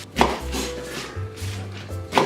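Carrots and onion are roughly cut with a knife on a board, a few close, uneven chopping thuds over about two seconds, no voices.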